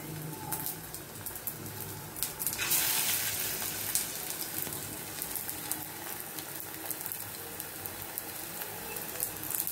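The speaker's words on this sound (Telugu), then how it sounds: "కొంచెం నూనె వేసుకుని చక్కగా వీటన్నిటిని చక్కగా వేపుకోవాలి" Vegetables shallow fry in a little oil in a pan, giving a steady, close sizzle with crackling bursts throughout and no talking.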